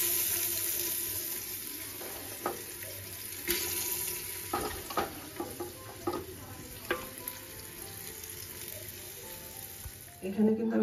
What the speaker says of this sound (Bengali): এবার এই চিকেনটা এই হাঁড়ির মধ্যে দিয়ে দেবো।